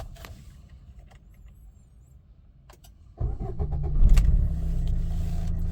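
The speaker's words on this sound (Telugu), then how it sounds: "ఒకసారి ఇంజన్ స్టార్ట్ చేస్తున్నానండి" A 2017 Maruti Ciaz diesel engine starts on a single crank after a quiet stretch, jumping to a loud idle clatter that swells briefly and then settles into a steady rumble close by.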